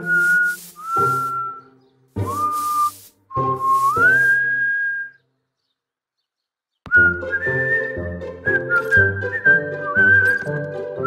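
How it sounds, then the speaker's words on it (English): Clear, bright whistle tones sound in short bursts with sliding, rising pitch. After a silent gap comes a quicker melodic run of stepped notes. It is loud and close, with no talking. "W is for whistle."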